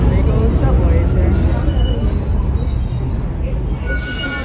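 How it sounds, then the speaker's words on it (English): A big old New York subway train heading toward Times Square in Manhattan, its loud continuous rumble and rattle filling the car with faint high wheel squeals; a voice talks over the noise. "Getting on last train to take you to Times Square. There are big old subways here."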